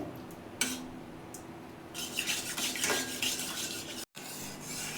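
Sugar caramelizing in a pan for semolina halwa is stirred steadily, with a utensil scraping and clinking against the metal over a low sizzle, close and fairly loud, with no one talking.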